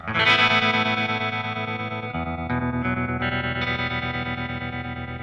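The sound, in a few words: electric guitar through a Fender Twin Reverb amp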